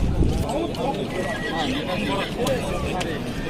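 A large horse neighs at a livestock bazaar in Özgön, a clear whinny close by with hoof clip-clops and faint crowd chatter around it.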